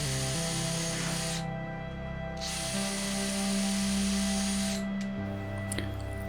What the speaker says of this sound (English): I'm going to drill through these with a drill bit that's big enough to take the screw